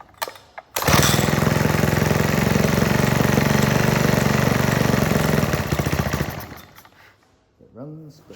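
A BSA Power Unit 49cc small engine on its first start bursts into a loud, rattling, steady run for about five seconds, then sputters and dies away, followed by a faint voice.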